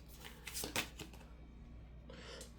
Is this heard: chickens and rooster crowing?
no